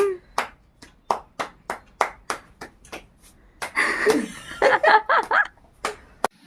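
Several people clap sharply and evenly at a child's birthday party, then break into a burst of mixed laughter and chuckling with more scattered claps.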